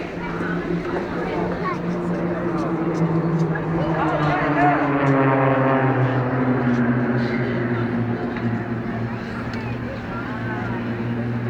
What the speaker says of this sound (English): Now, it's only a small aircraft, folks, 24-foot wingspan